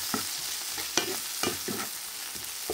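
Bitter gourd slices are tipped into a pan of frying chicken and stirred, giving a steady sizzle broken by several sharp utensil scrapes and clacks at uneven intervals, close and fairly quiet with no talking.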